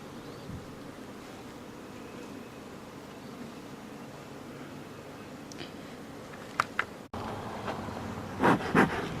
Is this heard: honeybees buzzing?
yes